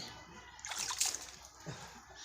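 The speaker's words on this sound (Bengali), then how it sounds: "গোলু জল ছিটাচ্ছে খুব দুষ্টু হয়েছে" A small child splashes water during a bath, with a burst of bright splatter near the middle and a softer slosh later, close and fairly quiet.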